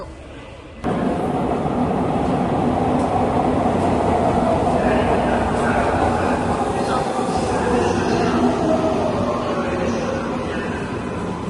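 An Atlanta metro train starts up and runs steadily, a loud continuous rumble with rising motor whine heard from inside the car.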